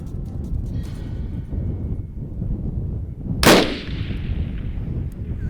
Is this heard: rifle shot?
yes